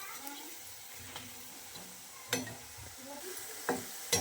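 Onion pakoda fries in hot oil with a faint, steady crackle. A few sharp clinks and scrapes from turning the fritters break through the sizzle.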